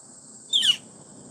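A single sharp, high-pitched bird call rings out very close in the woods at dusk, a quick descending screech lasting a fraction of a second over a quiet background.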